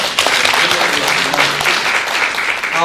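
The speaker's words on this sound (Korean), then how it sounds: "박수 한번 부탁드리겠습니다" Audience applause at a live talk event, loud continuous clapping from a crowd across the whole stretch, with a voice briefly heard toward the end.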